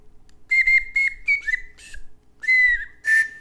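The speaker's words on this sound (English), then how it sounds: "Play that slide whistle, baby." A slide whistle plays a quick series of rising and falling toots, several short bursts then a longer sliding note, loud and close.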